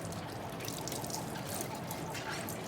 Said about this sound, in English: You want to be washing off your mask, same as you wash your clothes or wash your plate after you eat dinner.